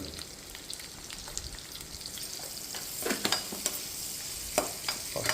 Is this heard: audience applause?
no